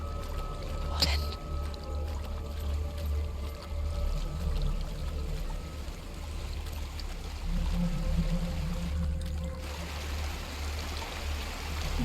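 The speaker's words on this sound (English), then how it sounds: "There's a waterfall." Steady rushing water from a waterfall in the video game Hellblade: Senua's Sacrifice, a continuous broadband roar with low rumble that holds evenly throughout, with a brief sharp accent early on.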